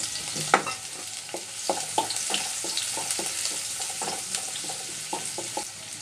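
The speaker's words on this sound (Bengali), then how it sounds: "এতো রসুন আর পেঁয়াজ ভাজা হয়ে এসেছে এবার আমি শাকটা দিয়ে দিব" Chopped garlic and a small onion fry in oil in a pan for water spinach, giving a steady close sizzle broken by repeated spatula scrapes and taps, with no talking.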